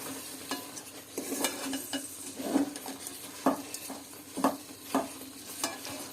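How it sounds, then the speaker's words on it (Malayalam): Coconut, with jaggery added, is sautéed in a pan, giving repeated scraping stirs and clinks of a spoon against the metal over a low, steady sizzle, fairly close and with no talk. "തേങ്ങായും കൂടെ ഇടാം എന്നിട്ട് നന്നായി വഴറ്റിയെടുക്കും"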